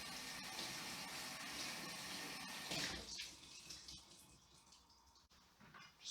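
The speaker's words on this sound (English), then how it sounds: "Give the water spinach a clean first." Running water splashes steadily over water spinach for a few seconds, then eases into quieter trickling and intermittent drips and handling sounds.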